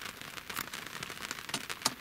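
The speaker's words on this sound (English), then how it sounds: "It's been raining for about 4 hours now, I think." Rain patters steadily on a boat's spray hood nearby, with scattered sharper drips and taps over a soft hiss; calm, windless conditions.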